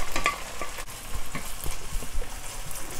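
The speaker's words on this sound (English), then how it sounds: "onions going in" Onions hitting hot oil already fragrant with chilies, ginger and garlic for a beef and bitter melon stir-fry, a close crackling sizzle with bursts of scraping and stirring.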